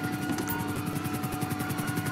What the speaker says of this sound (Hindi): ओ भाई साहब ऊपर ही अपने हेलीकॉप्टर